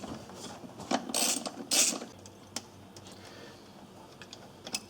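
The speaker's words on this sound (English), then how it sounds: "Randy's going to remove these 2 bolts right here. These are 10 millimeter." A hand ratchet clicks in two short, close bursts, loosening 10 mm bolts from the throttle bracket of a 2004 Ford Crown Victoria, followed by faint scattered mechanical ticks and no speech.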